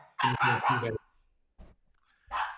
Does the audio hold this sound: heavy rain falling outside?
no